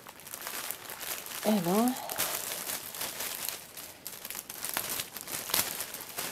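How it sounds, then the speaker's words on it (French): Packaged Pokémon Pikachu keychains being unwrapped, with near, continuous plastic crinkling and rustling and a short spoken exclamation early on. "Hop, je vais les déballer."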